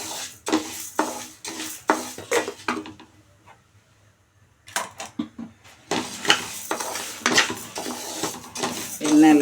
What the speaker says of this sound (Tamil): 1/4 கிலோ உளுந்து. இதை நல்லா எண்ணெய் ஊற்றாமல் வறுத்துக்கணும்.